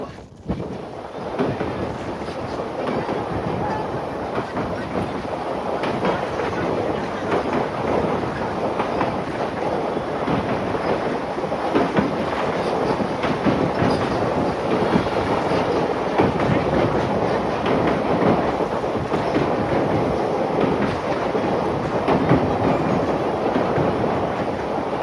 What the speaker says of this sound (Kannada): ಟ್ರೈನು ಒಂದು ಸಮುದ್ರದ ಮಧ್ಯದಲ್ಲಿ ಹೋಗುತ್ತೆ